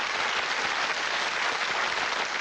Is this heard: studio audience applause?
yes